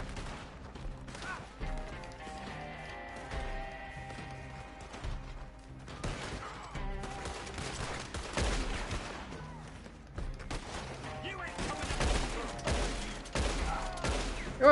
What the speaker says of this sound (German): Junge, Dauerschuss wie damals in Vietnam,